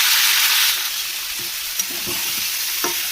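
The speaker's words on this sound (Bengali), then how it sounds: "নাড়াচাড়া দিয়ে ঢাকা দিয়ে দেবো।" Bottle gourd fries in a pan with a loud, bright sizzle that eases after the first moment, then a few soft stirring scrapes and clicks.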